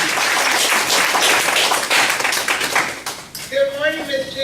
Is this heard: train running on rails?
no